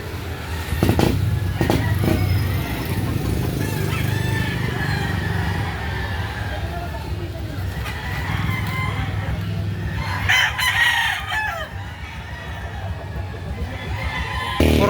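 Roosters, including a pumpkin sweater gamefowl, crow repeatedly at a Saturday chicken market in Lipa City, Batangas, loud and close, amid clucking, a busy crowd murmur and passing vehicles.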